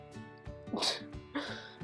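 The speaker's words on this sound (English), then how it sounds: "I'm going to sneeze it" A single sneeze with a sharp burst of breath, close and loud, followed by a second shorter exhalation.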